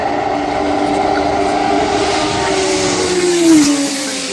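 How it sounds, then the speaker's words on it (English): A Cosworth DFV-powered Penske Formula One car howls uphill toward a flint wall at a hillclimb, its loud, steady engine note rising in pitch near the end as it passes close by. "Paul Knapfield howling up towards the Flint wall in the Cosworth DFV powered Penske"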